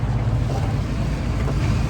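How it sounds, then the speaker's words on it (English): Sailboat crossing from Langkawi toward Thailand pounds through big waves in a 40-knot squall, a steady loud roar of wind and rushing water with no clear individual impacts. "the waves got really big and we're just pounding so hard"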